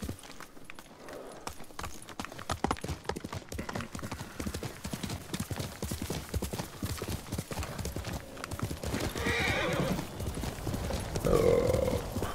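Horse hooves clip-clop at a steady trot in the video game Ghost of Yōtei, loud and close throughout, with a neigh rising near the end.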